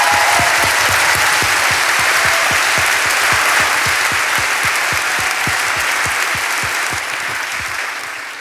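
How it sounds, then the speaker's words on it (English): Sustained audience applause for a host at an evening conversation event with an author and journalist, a dense, loud wash of clapping throughout that tapers slightly toward the end. "I hope you'll join me in giving a warm round of applause for your host this evening"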